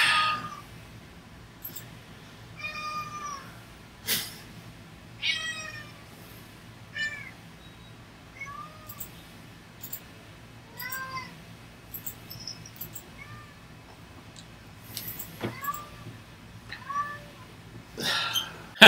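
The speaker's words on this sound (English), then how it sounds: "That darn cat." A house cat meows repeatedly, about a dozen clear separate cries spread across a quiet indoor room, some short and some drawn out, alone without talk.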